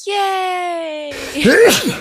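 A voice calls out a drawn-out cheer, then a loud, abrupt sneeze bursts out close by.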